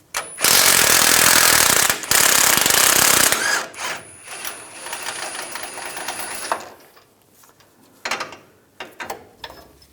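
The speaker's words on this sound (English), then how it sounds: "I'm going to take this bolt out. Using a 21mm socket," An impact wrench with a 21mm socket hammers loudly on a torsion bar mount bolt under a 2001-2006 Chevrolet Silverado 2500 in two close bursts, then the bolt rattles and clinks as it is worked loose.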